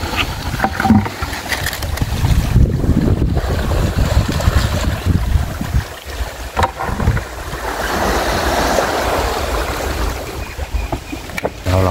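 Sea waves wash and wind gusts buffet the microphone along a rocky island shore at Koh Chang, Thailand, a steady, rough roar with occasional thumps and no talking.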